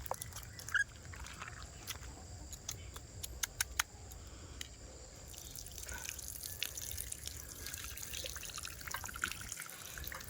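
Freshly cut bottle gourd (lauki) pieces washed by hand in water in a home kitchen: faint, close drips, trickles and small splashes at an irregular pace over a quiet background.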